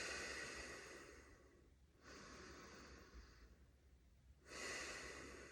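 Slow, audible breaths during a neck resistance exercise, two long airy exhalations separated by a quieter pause, close to the microphone over a low background hiss.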